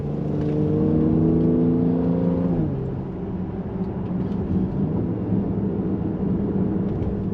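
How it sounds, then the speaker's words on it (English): A Mercedes-AMG GLC 43 Coupe engine pulls hard in Sport Plus on a twisty road, a loud steady drone rising in pitch, dropping with a gear change near three seconds, then holding a strong even hum. "Yeah, this engine's eager to go."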